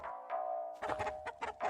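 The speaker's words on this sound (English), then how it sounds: "You might have figured that it goes to this rooster guy here." A rooster in the LISA video game gives stylized clucking, a tonal held note followed by a rapid series of four or five choppy clucks, fairly close and loud with no talking.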